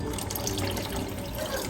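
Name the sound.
water poured into rice pot for pulao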